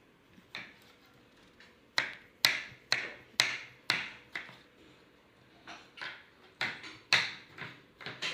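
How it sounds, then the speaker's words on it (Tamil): A knife chops onions on a cutting board for chicken biryani, giving sharp, separate thuds and clicks, some in quick bursts and others spaced apart, faint and close with no voices. "வெங்காயத்தை கட் பண்ணுங்க, நல்லா கட் பண்ணிட்டு அடுத்து நம்ம தக்காளி கட் பண்ணிக்கலாம்."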